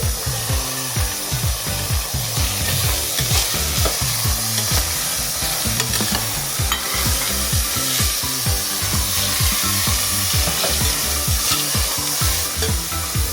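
Beans and potato stir-fried in a pan, a continuous sizzle with repeated scraping and stirring strokes of a spatula, close and steady throughout, no talk.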